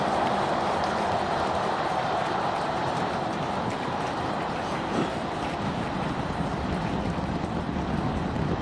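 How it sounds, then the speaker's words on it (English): The 33 engines of a SpaceX Starship booster on Flight 7 roar in a continuous, distant, broadband rumble as it pitches downrange, with no voice over it. "Telemetry showing 33 out of 33 engines as it's pitching downrange."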